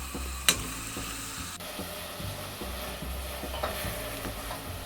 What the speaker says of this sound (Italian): Aggiungo la cipolla, la carota e il sedano che lascio soffriggere insieme.